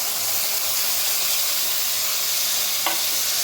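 Ginger, garlic and green chili go into beef tripe cooking in a pan, giving a steady loud sizzle and hiss with a brief clink near the end.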